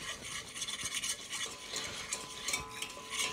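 Cold milk being whisked into a roux for béchamel, a quiet, steady brushing and scraping of a whisk against the pan with a faint sizzle.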